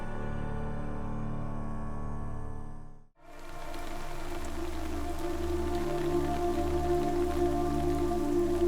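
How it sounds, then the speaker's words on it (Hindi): Steady rain falling outdoors, a continuous even hiss of drops on surfaces, briefly cutting out before resuming at a similar moderate level, with no talk. "देखिए बारिश भी हो रही है"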